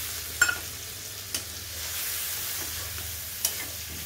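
A fish curry cooks in a pan after spice water has been added, making a soft continuous sizzle with a few sharp scrapes or taps from a stirring utensil.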